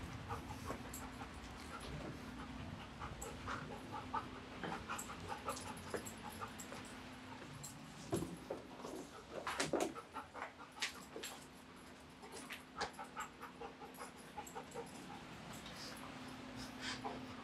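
Police dog panting heavily while searching rooms, steady rapid breaths close by, with occasional snorts, whimpers and thuds of movement, under faint background noise.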